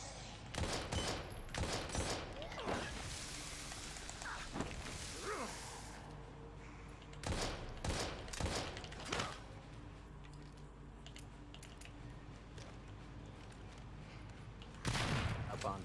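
A hand-cranked Gatling gun fired in the game Daymare, with dense bursts of rapid, sharp shots in several clusters separated by quieter stretches, the last burst rising again at the end, heard close and with no speech over it.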